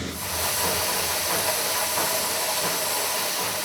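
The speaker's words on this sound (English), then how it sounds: "the sound the machine made when it squashed the rubber nuggets into half balls" A loud, steady hiss of pressurized air from a machine squashing rubber nuggets into half balls, like steam escaping, holding constant throughout.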